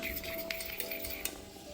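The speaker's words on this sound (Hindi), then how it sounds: "अब मुझे कलछी से हटानी है" A ladle stirs thick rabri in a pot, producing a steady close metallic scraping with light clinks at a few points, continuous and fairly quiet, with no voices.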